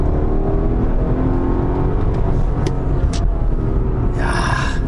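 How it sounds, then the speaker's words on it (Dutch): A 2006 Mercedes-Benz E 55 AMG estate accelerating from low revs, its engine note swelling into a loud, steady roar that runs throughout, with a few brief higher clicks and whirs layered on top. "Nou ja, 1000 toeren, geef ik gas."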